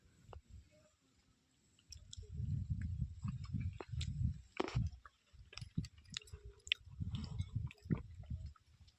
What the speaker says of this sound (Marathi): तर पाण्यात बुडून बिस्किट खात आहोत